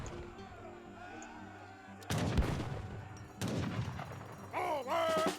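Field cannons firing in a match of Age of Empires III: a couple of sharp booming blasts with crackling bursts, set against game ambience and a commentator talking.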